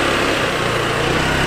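A small enduro scooter engine runs steadily just after its first start, a close, buzzy, continuous idle with no breaks.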